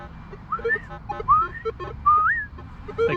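A Minelab Manticore metal detector sounds a target signal in the field, three rising whistle-like tones in quick succession over faint background noise.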